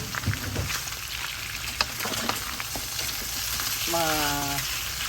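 Pork skin frying in its own rendered fat for chicharon, a steady crackling sizzle with scattered pops throughout, close and moderately loud, plus a brief tonal clink near the end.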